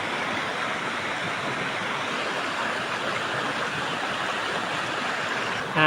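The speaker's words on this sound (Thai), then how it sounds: "เดี๋ยวเราจะล้างแล้วก็ทำความสะอาดหอยหอมภูเขาที่เราเก็บกันมาเมื่อเช้า" Freshly gathered mountain snails being washed, with a steady broad rush of running water that stays constant and fairly loud throughout, and no voices.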